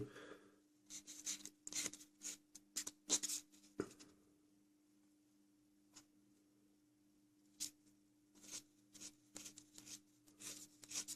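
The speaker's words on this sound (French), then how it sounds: "Alors c'était à l'origine une lime à ongles. Donc c'est pratique, il y a plusieurs grains. Donc pour ébavurer, je trouve ça pratique." A nail file with several grits scrapes burrs off a plastic part from a 1/24 Tamiya Porsche 911 GT2 model kit, a series of short, close rasping strokes in irregular bursts separated by quiet pauses.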